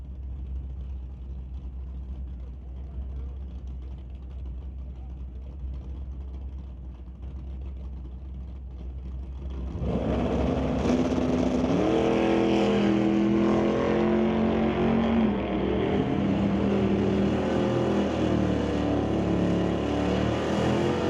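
A 1989 Rat Torque Systems S10 and a Chevy 2 at a drag race. A low steady engine drone gives way to a loud, sustained roar as they launch and run hard down the strip.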